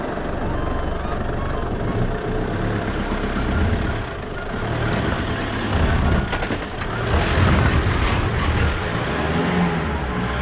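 A vehicle drives across the Hay Plain in New South Wales, with loud, steady engine and road rumble close by throughout and a few faint voices.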